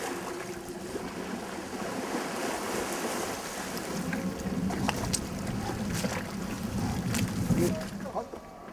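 A boat docking at a small island pier in Korea, its low engine rumble mixing with lapping water and wind, with people's voices talking over it.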